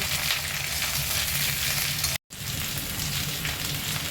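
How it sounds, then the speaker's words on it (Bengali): Drumstick stalks and chopped onion fry in a hot pan for moringa curry, a steady, close, dense sizzle that drops out briefly midway and then resumes. "সবকিছু নাড়িয়ে চাড়িয়ে ভালো করে ভেজে নেব।"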